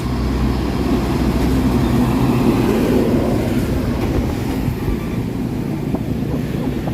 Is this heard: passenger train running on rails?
yes